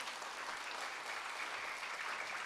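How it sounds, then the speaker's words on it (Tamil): Sustained clapping from an audience at a church Vacation Bible School function, an even, dense patter of many hands throughout, slightly distant and moderately loud. "ஜோராக கைத்தட்டிங்க"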